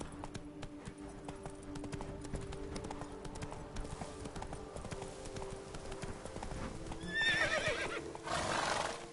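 Roach the horse in The Witcher 3 gallops with rapid, rhythmic hoofbeats, then gives a loud, shrill neigh near the end, with background music underneath.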